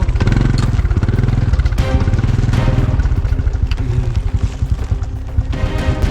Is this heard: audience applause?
no